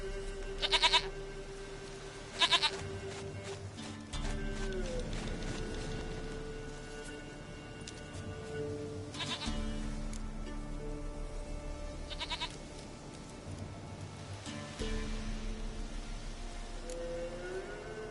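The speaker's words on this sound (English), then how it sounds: "Goat of mine, dearest, sweetest goat." A goat in The Witcher 3: Wild Hunt bleats several times in short, separated cries, heard close over a low, steady ambient background in the game world.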